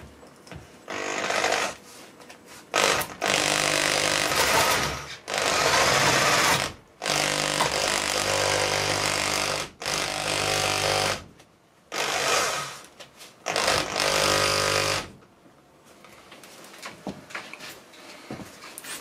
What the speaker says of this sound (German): Ich bohre das jetzt mit 10 mm vor.